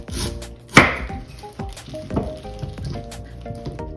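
A knife chops purple potatoes on a cutting board, a few sharp knocks against wood with softer cutting sounds between, close up, while something sizzles faintly in the background.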